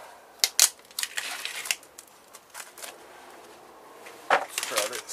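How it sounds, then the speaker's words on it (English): Laptop keyboard being pried apart by hand, with dig-out brass pieces involved: a run of sharp plastic clicks, snaps and scraping crackles, close and fairly quiet, with two louder pops near the start and end. "Get my keyboard apart."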